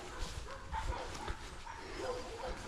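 Several dogs at a kennel or shelter bark and yip in short bursts, a little distant and fairly faint, heard outdoors on a nature reserve hike with steady background noise.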